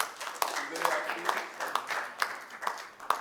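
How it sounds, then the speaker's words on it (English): Sparse applause at a corporate presentation, a small group's distinct claps arriving in a loose, fairly regular rhythm, moderately close, with some voice audible beneath. "Please, a round of applause for today."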